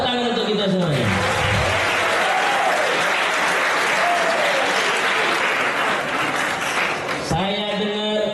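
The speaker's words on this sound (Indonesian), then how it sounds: "Tepuk tangan untuk kita semuanya." A school audience in Palembang breaks into loud, sustained applause that fills the hall for several seconds, with a voice speaking over the clapping near the start and again as it dies down.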